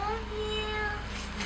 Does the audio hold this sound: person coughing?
no